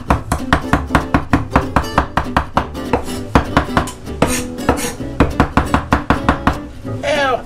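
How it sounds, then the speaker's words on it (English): A knife chops fresh parsley on a cutting board in a kitchen, giving steady, rapid, evenly spaced wooden thuds that are loud and close and keep going without a break. "Now, I'm going to put the chop on this parsley."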